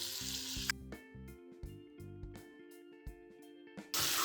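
Two spoons of butter sizzle in a pan for restaurant-style malai kofta. The hiss is broad and steady at the start, fades under a layer of tonal background music, then rises loudly again at the very end. No one speaks.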